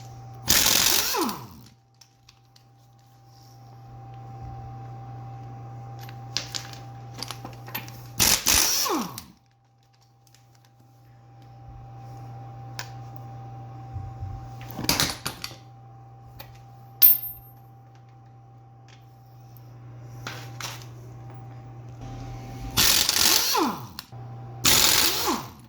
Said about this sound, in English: you're going to remove the 5 lug nuts.